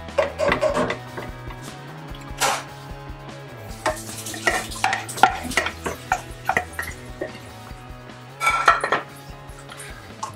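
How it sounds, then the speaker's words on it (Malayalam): Chicken coated with turmeric, garam masala, chicken masala and chilli powder stirred in a pan, with repeated metallic scrapes and clinks of a spoon against the pan over a soft sizzle. "നല്ലപോലെ ഇളക്കി കൊടുക്കാം"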